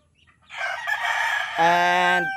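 A fighting cock or free-range rooster crows once nearby, a loud, clear cock-a-doodle-doo that starts with a rough rising call and ends in a sustained, strongly harmonic note.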